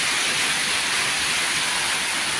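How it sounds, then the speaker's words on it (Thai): Steady, dense rain falling, a continuous even hiss with no pauses and no voices. "ฝนตกเย็นสบาย"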